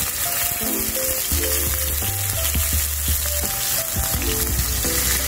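Boneless pork chops frying in hot cooking oil in a pan, a loud, steady close sizzle with crackling pops running throughout, no voices.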